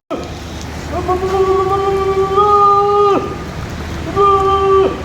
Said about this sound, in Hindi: फिर बारिश तो रुकने का नाम ही नहीं ले रही थी।